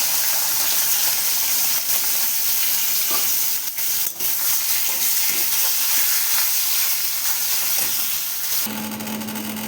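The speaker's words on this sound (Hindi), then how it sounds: "कढ़ाई में तेल डाल चुकी है, अभी डाल दूँगी मच्छी को।" Fish frying in hot oil in a kadai, a steady loud sizzle and hiss running throughout with occasional stirring clicks and no speech.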